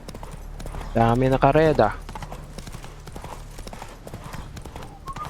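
Horse hooves clip-clop steadily in The Witcher: Wild Hunt, joined by a loud whinny early on, while someone talks over the game sounds.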